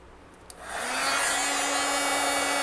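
A heat tool melting embossing powder switches on after a small click and settles into a steady, loud, close whooshing blow with a faint hum, running continuously without speech.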